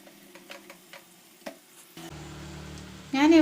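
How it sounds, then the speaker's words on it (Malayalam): Skinless chicken pieces for an Arabian-style chicken kabsa hit a hot pan of masala and start sizzling. A few faint ticks come first, then a steady close frying hiss that swells louder near the end, with no talk. "ഇനി നമുക്ക് ഇതിൽ ചിക്കൻ പീസസ് ഇടാം."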